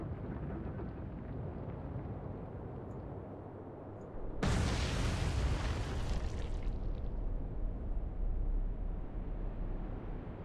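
Torpedoes strike a C2 freighter in the Atlantic Fleet naval game with a sudden deep, rumbling blast that rolls on for several seconds over a steady low sea ambience, loud and close, with no voices.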